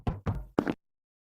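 Doors slam shut in a multiplayer Among Us-style game, three quick muffled thuds in a row that stop abruptly, with no talk over them.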